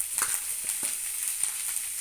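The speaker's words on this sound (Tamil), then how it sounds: "நல்லா வதங்கட்டும்." Tomatoes, carrot and cabbage sauté in a pan for a vegetable chutney, with a soft continuous sizzle and a few light stirring taps spaced through the short stretch, no talk.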